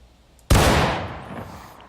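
A single loud crack from a Springfield 1855 rifle with a bayonet fixed, fired at target practice in War of Rights, hits suddenly after a short quiet moment and then rolls off in a long, fading echo.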